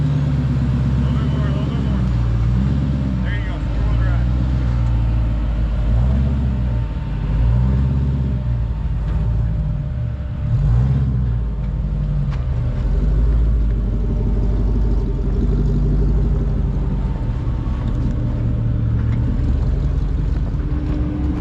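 A dually pickup truck's engine rumbles and revs steadily at close range while being driven onto a trailer, with a continuous low drone throughout and people talking over it.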